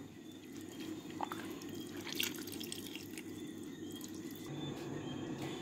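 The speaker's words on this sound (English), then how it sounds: "I'm actually going to use my hand to remove the water" Water is scooped out by hand from a pot of vegetable chunks, giving close, light dripping and trickling sounds over a continuous low background rumble, with a few sharper splashes.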